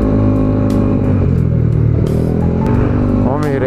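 Motorcycle engine roaring steadily close by, loud and continuous with a rising rev near the end, while a raider motorcycle rides behind on the road.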